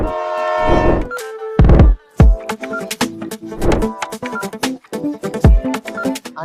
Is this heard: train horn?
yes